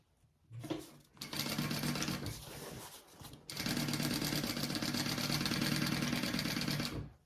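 A sewing machine stitches fabric in two runs, a short burst and then a longer steady hum of rapid needle strokes. The sound is close and clear with a brief pause between the runs and no talking.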